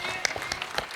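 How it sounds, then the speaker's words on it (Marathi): A crowd applauds at a traditional Maharashtra Kesari kushti wrestling semifinal on a mud pit, with a brief burst of scattered clapping under an announcer's voice. "कुस्ती कडेला टाळ्या करा किंवा जरा दोघांसाठी"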